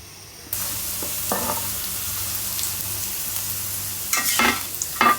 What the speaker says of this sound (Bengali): একটু বেশি পরিমাণ পেঁয়াজ, রসুন, কাঁচামরিচ দিয়ে মেথি শাকটা এখন ফোড়ন দিতে হবে